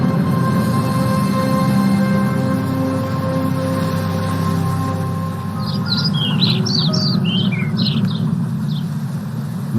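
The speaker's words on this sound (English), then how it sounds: "Many mama and papa birds roam around for food." Small birds chirp and squawk in a quick cluster of calls over steady engine or traffic hum, moderately near, with the calls bunching up in the second half.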